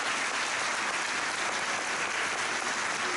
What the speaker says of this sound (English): we are clapping the hands and praising the Lord